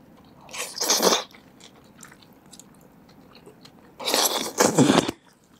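Close crunchy bites and chewing of food in an ASMR eating session, two loud bursts of crisp crunching separated by a quieter stretch of softer mouth sounds.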